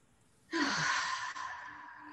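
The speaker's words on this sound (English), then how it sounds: "just take a nice deep breath" A deep, steady breath exhaled alone in a quiet room during a guided relaxation exercise, a long airy rush of breath that swells and then holds level for nearly two seconds.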